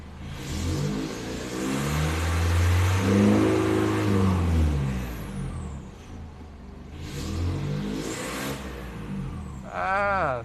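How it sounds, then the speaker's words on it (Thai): An Isuzu D-Max 1.9 pickup engine revs up and down through a throaty aftermarket exhaust, loud and near, with a couple of separate revving bursts. "เสียง หวานหวานท่อแต่งนะครับ"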